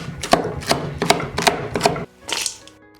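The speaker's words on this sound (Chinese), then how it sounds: "剩下的猪油渣子先切碎备用" A knife chopping pork lard cracklings on a board in a kitchen, five evenly spaced sharp chops close by, then a pause and one softer scraping stroke, with no talk.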